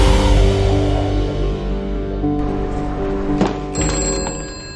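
A telephone bell rings in a dense, loud orchestral film trailer mix, its tone partly buried under sustained music with a brief sharp accent near the end.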